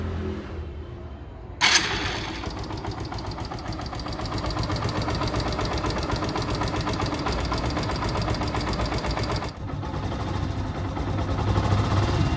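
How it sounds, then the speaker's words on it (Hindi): A steady, loud engine idles with a rhythmic mechanical chugging, starting abruptly after a quieter moment and running continuously close by. "एकदम नॉर्मल साउंड आ रहा है जैसे इंजन में आना चाहिए"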